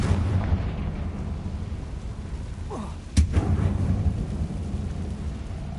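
A Confringo blasting spell explodes in the Hogwarts video game, a sudden sharp crack and boom rising out of a low rumbling background, followed by continued heavy rumble, with no speech.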